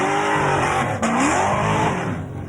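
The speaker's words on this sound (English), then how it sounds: "Here's a Mazda that really sounds good." A Mazda fitted with a 383 stroker small-block Chevrolet V8 revs hard and loud at the Summernats car festival, a dense continuous engine roar with one brief dip and climb in pitch.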